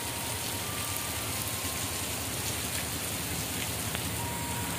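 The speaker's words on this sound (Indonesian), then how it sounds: "Hujan gede." Steady, dense heavy rain pours down continuously as the Argo Wilis train passes, a broadband hiss of drops hitting surfaces with no pauses, loud and close throughout.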